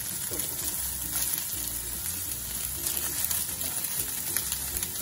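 Grated coconut frying with scrambled egg in a pan gives a soft, continuous close sizzle with faint stirring scrapes and no voices.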